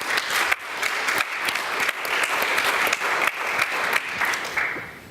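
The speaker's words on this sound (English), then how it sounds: "ladies and gentlemen, a round of applause for the panel." Steady audience applause for a panel at a forum on mega sporting event legacy, many hands clapping evenly for about five seconds with no voices.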